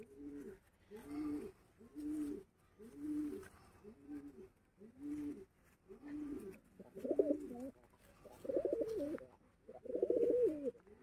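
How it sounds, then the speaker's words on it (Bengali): Pigeons with fully feathered bodies and closed tails coo in a steady rhythm, each throaty phrase about a second apart and growing louder and fuller toward the end, close by with no talking. "এই যে বন্ধ দুমের পায়রা একদম।"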